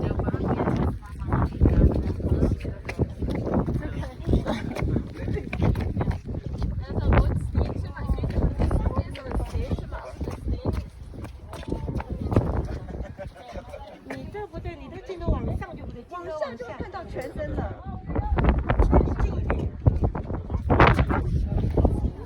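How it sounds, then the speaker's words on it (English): Steady wind buffeting the microphone at the Grand Canyon, a constant loud rumble with gusty surges, and faint voices chattering underneath. "It's pretty windy."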